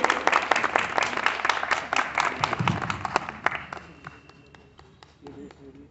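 Teachers applauding students at a school Republic Day celebration, loud dense clapping that gradually thins and fades over several seconds.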